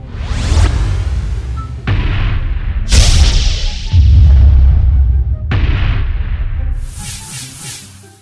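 Cartoonish fireworks: a run of booming bursts and whooshes, loud and close, ending in a bright sparkling crackle.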